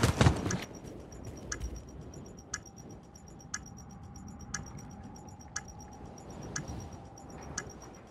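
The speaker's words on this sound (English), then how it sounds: "Bomb planted. Begin countdown." A planted bomb counts down in a Call of Duty Modern Warfare round, sounding as sharp, evenly spaced electronic ticks about once a second over low background rumble, after a louder burst at the start.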